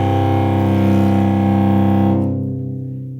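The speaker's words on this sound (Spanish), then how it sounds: "El siguiente sonido consonante es la quinta," A perfect fifth, two notes sounding together, sustained steadily with a dense, slightly distorted tone before fading out over the last second; no talking.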